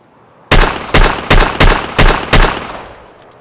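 Six loud, close gunshots from a Chiappa Rhino .357 Magnum revolver fired double action in Escape From Tarkov come in a quick, even rhythm, each with a sharp crack and booming tail that rings out after the last shot.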